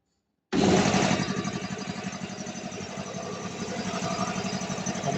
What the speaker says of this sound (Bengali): কম্প্রেসরটা স্টার্ট করব।